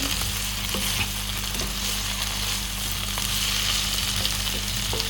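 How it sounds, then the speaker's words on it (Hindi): Vegetables for a restaurant-style mixed vegetable korma fry in a pan with a loud, continuous sizzle and light stirring scrapes, close and steady throughout with no voices. "एक मिनट के लिए इसे फ्राई करेंगे।"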